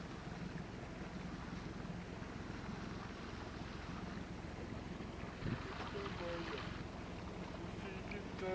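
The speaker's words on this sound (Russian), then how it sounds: "О, еще лодка идет." A small boat passes on a lake during a fishing trip, a low droning hum under wind noise that swells slightly in the second half, with people talking quietly nearby.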